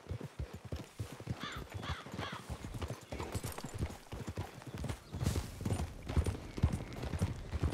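Hooves clip-clop steadily in a quick trotting rhythm, several horses close by in Red Dead Redemption 2, with a faint whinny near the start.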